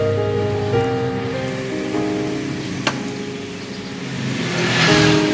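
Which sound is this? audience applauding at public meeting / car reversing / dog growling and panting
car reversing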